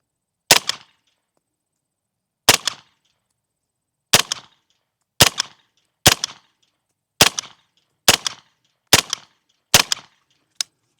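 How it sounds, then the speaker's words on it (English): Nine sharp gunshots from an SLR9 AR9 carbine fired at a paper target, spaced unevenly over several seconds with short echo tails and silence between, loud and close. "I decided to take more than 5 shots."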